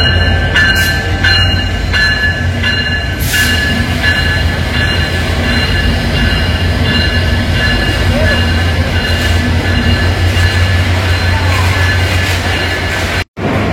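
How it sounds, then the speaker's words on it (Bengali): Padma Express, drawn by an Indian locomotive, rolls into platform 4 at a Bangladeshi station, a loud, continuous rumble of wheels and carriages with squeal and clatter, steady throughout. "পদ্মা এক্সপ্রেস 4 নম্বর প্ল্যাটফর্মে প্রবেশ করলো"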